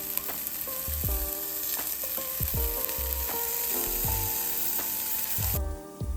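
Lamb strips sizzle and fry in a pan on medium-high heat, with a steady hiss broken by repeated clanks and scrapes of a utensil stirring and turning the meat.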